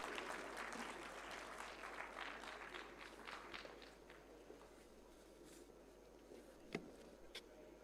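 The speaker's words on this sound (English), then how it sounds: "Please give them a thunderous applause as they join us." Audience applause at a hackathon valedictory session as guests walk up to join the stage, a steady patter of clapping that fades toward the end, with a few sharp isolated knocks.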